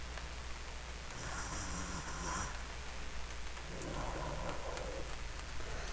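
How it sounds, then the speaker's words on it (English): Rain in the video game Mouthwashing, a soft, continuous patter with faint distant rumbles, steady and quiet with no voices. "I seem to be listening to rain, and it's so sweet."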